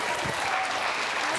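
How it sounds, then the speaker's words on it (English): Studio audience applauding Eamonn Holmes on a BBC National Lottery game show, a dense, loud, sustained burst of clapping throughout. "big round of applause, please, Mr. Eamonn Holmes."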